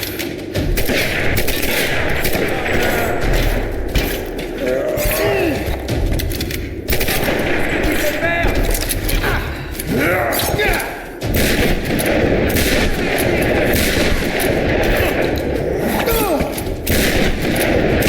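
Sustained bursts of gunfire in the Tomb Raider video game, with rapid, dense shots that go on almost without a break, loud and close against a noisy game soundscape.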